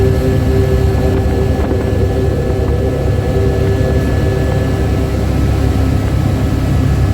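Loud, constant engine drone and rotor thrum of a helicopter in flight on the Pahalgam route of the Amarnath Yatra, heard from inside the cabin, close and unbroken for the whole stretch, with no voices.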